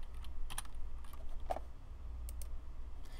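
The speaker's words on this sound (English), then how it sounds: "Did I type the password wrong?" A computer keyboard is typed on briefly, with a few scattered soft key clicks over a low background hum. The tapping is quiet and close, and no one speaks.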